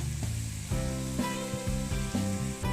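Vegetables frying in a pan (kadai) with turmeric, chili, coriander, cumin and salt: a close, steady sizzle, broken by a few stirring scrapes and brief tonal clinks.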